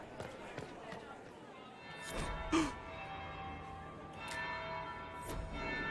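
A bell tolls in the video game Dragon Age: Inquisition, a few resonant strikes rising above a busy background of game sounds and footsteps, moderately loud and fairly distant.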